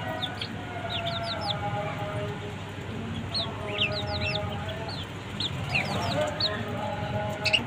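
Backyard chickens cluck and squawk steadily in bursts as they are fed leftover food, close and moderately loud, with someone speaking over them now and then.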